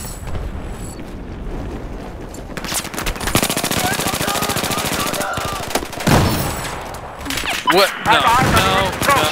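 Rapid automatic gunfire in the video game Battlefield 4 during a naval strike match, with dense bursts of loud rattling shots and heavy blasts, while a player talks over the action.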